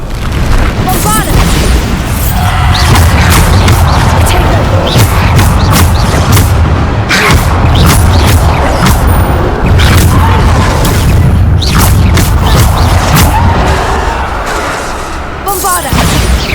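Repeated Bombarda spell blasts in Hogwarts Legacy, loud booming explosions firing one after another over a dense, continuous rumble with crackling debris, and a voice shouting in between.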